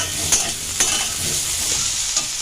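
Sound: brinjal (eggplant) frying and being stirred in a pan

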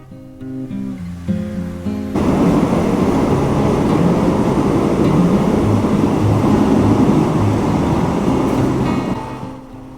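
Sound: ordinary open-window passenger train riding

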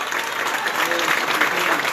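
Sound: applause at building inauguration

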